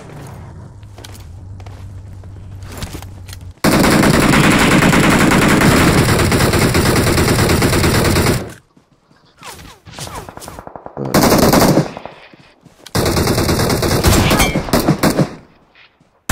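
Sustained automatic gunfire in a PUBG fight on the Erangel map, long dense bursts of rapid shots broken by brief pauses and quieter gaps, loud and close.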